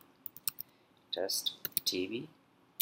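Keys being typed on a computer keyboard while entering an SQL insert command, quick light clicks in short bursts, near and fairly quiet, with a voice talking over parts of it.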